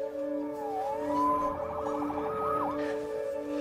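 A siren wails with rising and falling tones over a steady, droning background; loud and continuous, with no talking.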